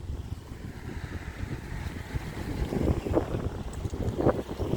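Wind gusting outdoors past a microphone, a steady low rumble that swells louder in bursts toward the end, with no voices.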